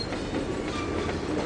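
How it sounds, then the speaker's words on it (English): Train hauled by NS engines pulling out of town, a steady close rumble with rhythmic wheel clatter over the rails, heard alone without voices. "wagon train leaving town with the rest of the NS engines"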